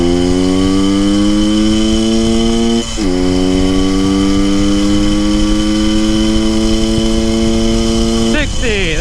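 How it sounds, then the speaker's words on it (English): A 1974 Honda MT250 motorcycle pulls hard from a standstill in a 0 to 60 run, its engine note climbing through the gears with clear shifts around three and eight seconds, loud and close with no talking. "let's hit a quick 0 to 60 run, see how the bike's doing"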